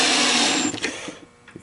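Small 2-volt electric screwdriver driving screws into a coin changer hopper, a steady high motor whine for just over half a second before it cuts off, leaving brief clicks and handling noise.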